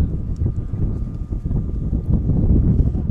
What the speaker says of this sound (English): Wind is gusting now.